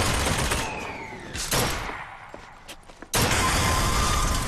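Carbine gunfire aimed at a machine in BioShock Infinite, with sharp loud shots at the start and again after a lull, several rounds in quick succession.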